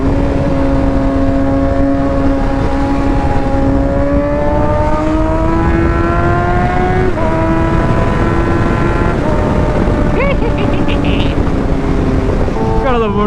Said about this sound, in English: Gotta love a motorcycle, you can just get through anything